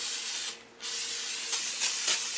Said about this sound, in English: I just do a little spray.